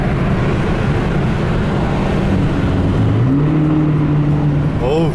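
A Chevrolet Camaro SS muscle car's large-displacement engine drones loud and close, its pitch climbing as it revs midway, heard from inside the cabin with no talking.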